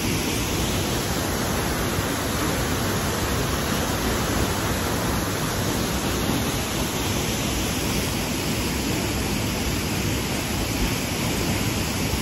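A waterfall in Turrialba, Costa Rica roars as a constant, dense rush of falling water, loud and close, with no voices.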